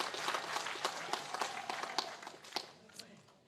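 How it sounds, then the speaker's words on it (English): Audience applause at the 03 Plus Project launch event at UNZA, a scattered patter of clapping that thins and fades out toward the end, with a faint voice underneath. "Let us give them a round of applause."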